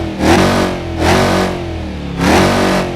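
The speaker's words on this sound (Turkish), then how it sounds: "Kardeşim V8 bir turbo sesi bak." A Mercedes-Benz Vito van with a V8 turbo engine revs in Euro Truck Simulator 2, three loud surging rev bursts rising and falling close up, with no talking over them.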